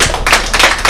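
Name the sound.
congregation clapping and acclaiming God in church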